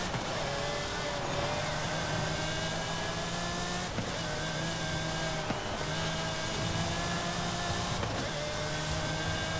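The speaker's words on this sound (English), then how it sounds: "I love that engine noise though in this car." Lamborghini engine from a rear-wheel-drive car in the Forza Horizon 5 racing game, a steady sustained drone with layered harmonics that rises and falls slightly during a race, continuous and fairly loud throughout.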